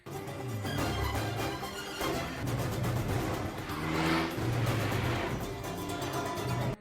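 A car races through a film chase as its occupants try to shake off a pursuer, the engine roaring loud and steady with revving surges and brief tire noise throughout, with no voices.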